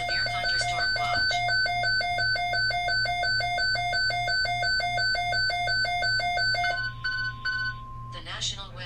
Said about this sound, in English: I got more alarms going off here around the house